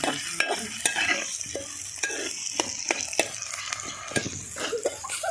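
Country chicken curry frying in a pan, with steady sizzling broken by repeated scraping stirs of a spoon against the metal.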